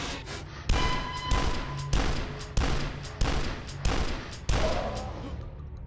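Heavy gunshots boom in the video game Dusk, about eight loud, evenly spaced blasts, each with a sharp crack and a decaying low rumble.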